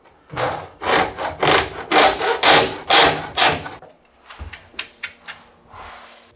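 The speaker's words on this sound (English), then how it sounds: "just cut this with a hacksaw to give you the neat finish through the mitre block" A hacksaw cuts PVC coving trim held in a mitre block with about eight steady, rhythmic rasping strokes, loud and close, followed by a few light knocks and taps as the cut finishes.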